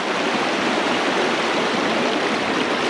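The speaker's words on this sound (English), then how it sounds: "a fair amount of water coming down my road" Floodwater rushing down a rural road during the December 2023 Vermont flood, a loud, steady broadband roar and hiss of flowing water with no pauses and no voices.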